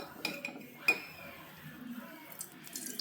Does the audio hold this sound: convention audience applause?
no